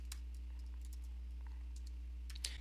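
Quick keystrokes typing the ssh-keygen command on a computer keyboard, faint scattered taps over a steady low electrical hum, with a slightly louder cluster of key presses at the end.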